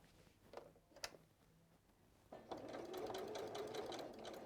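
A sewing machine stitching a scarf: a couple of faint mechanical clicks first, then the motor starts up into a steady, close rattling whir with rapid needle ticks that runs for the remaining two seconds.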